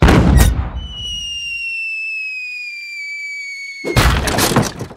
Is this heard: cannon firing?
yes